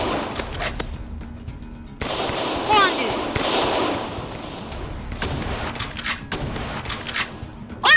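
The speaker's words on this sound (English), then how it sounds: "No, not a mini gun. Machine gun." Machine gun fire in the War Simulator game, rapid bursts of shots in short stretches with a loud blast at the end, under a talking voice.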